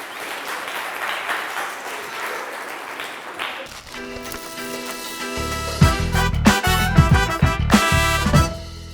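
Audience applause at a school puppet-theatre arts session: a few seconds of dense, steady clapping, then music takes over with strong tonal notes and rhythmic beats.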